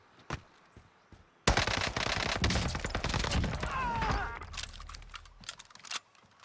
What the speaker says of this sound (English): That was the Cooper Carbine now.